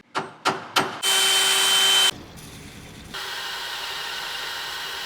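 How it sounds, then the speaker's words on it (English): Power drill boring a pilot hole while fitting heavy-duty side steps to a 2005+ Toyota Tacoma, with three quick trigger blips, then a steady loud whine for about a second, a pause, and a second sustained run. "I'm gonna drill a pilot hole first"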